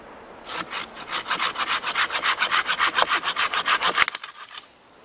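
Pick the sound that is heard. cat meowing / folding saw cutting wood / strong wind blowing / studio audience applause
folding saw cutting wood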